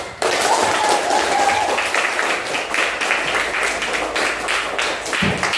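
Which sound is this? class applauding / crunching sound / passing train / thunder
class applauding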